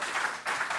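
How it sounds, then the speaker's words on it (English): Audience applause at a conference talk, a brief burst of broadband clapping that dips for a moment and then swells again, heard fairly distant across the room. "Round of applause for Kali."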